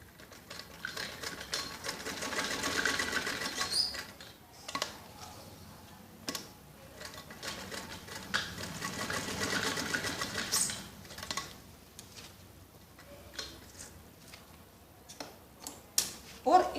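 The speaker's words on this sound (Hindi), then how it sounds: "ऐसे सीधी सिलाई लगाते हैं।" Sewing machine running in short bursts of rapid stitching, straight-stitching elastic onto the waist belt of a child's skirt, with pauses and soft handling clicks between runs, close and clear with no talk.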